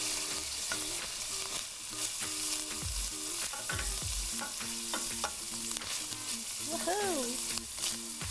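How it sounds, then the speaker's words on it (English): Ground beef with a tablespoon of cooking wine sizzles steadily in a little oil while a utensil scrapes and stirs it in the pan. A brief exclamation comes near the end, and a faint musical tone runs underneath. "Now I'm going to add a tablespoon of cooking wine. Give it a little stir."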